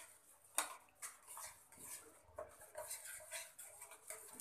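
Suji halwa stirred in a pan over a medium flame, close, irregular scraping and knocking of a spoon against the metal with soft clinks, quiet and without voices.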